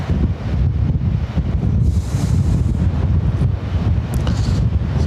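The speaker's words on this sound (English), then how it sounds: "So the wind is literally a crosswind now" Strong crosswind blowing at Lanzarote Airport, loud continuous buffeting roar over the microphone with gusty rumble throughout.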